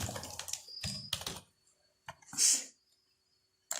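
Short bursts of computer keyboard typing, a few quick keystroke clusters close by, separated by brief silences and ending in one more tap.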